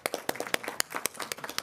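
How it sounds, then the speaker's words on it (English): Scattered hand claps from a small audience at a city council meeting during an award presentation, a sparse irregular patter of individual claps rather than a full ovation, fairly close and moderately loud. "Please join me in a round of applause."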